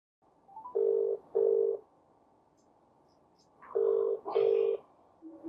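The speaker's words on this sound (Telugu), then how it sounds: "మరి ఇందులోంచి చేస్తే అతను ఎత్తుతాడా ఫోన్?" Telephone call tones sound in two paired bursts, a short pause, then another pair as the line rings, fairly quiet and clear with no talk.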